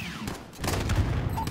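Gunfire in Call of Duty Modern Warfare (2019), a burst of rapid shots and booms rising after a quieter start, with faint radio chatter in the mix.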